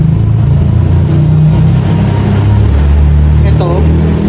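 Vehicles roar past on a nearby highway beside an abandoned LTO office building, a continuous loud engine rumble with passing swells heard under a person talking.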